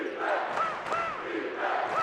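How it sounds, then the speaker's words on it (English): A basketball crowd at a college game cheers and yells in a steady mass of voices, moderately loud and somewhat distant, rising and falling in short swells. "the crowd is a good bit louder than they were last week against Trinity"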